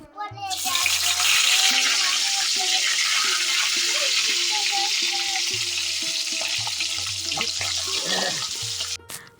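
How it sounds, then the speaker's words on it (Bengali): Two fish frying in a pan make a loud, continuous sizzle and spatter up close, with a constant hiss running throughout and intermittent low tonal background sounds. "মাছ দুইটা দেখো ভাজা করে নিচ্ছি"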